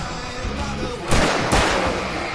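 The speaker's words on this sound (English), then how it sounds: "I can set off more of the fireworks from here and help you out!" Two loud, close firework bursts go off a moment apart in the video game Alan Wake, each a sharp boom over a constant dense background of game noise.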